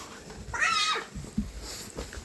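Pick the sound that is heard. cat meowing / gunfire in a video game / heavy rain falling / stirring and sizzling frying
cat meowing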